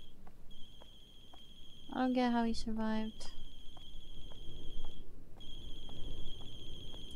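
A phone in the horror game The Closing Shift rings with a steady electronic trill, repeating in a regular pattern. It drops out briefly, then resumes, under a person talking.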